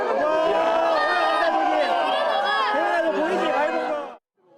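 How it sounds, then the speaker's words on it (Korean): Crowds of citizens at the Goheung space launch observatory, about 15 km from the pad, shout and cheer as the Nuri rocket lifts off. A loud, dense roar of many voices holds steady, then cuts off abruptly near the end. "마침내 누리호가 하늘로 솟구쳐 오르자 전망대 일대가 환호로 뒤덮입니다."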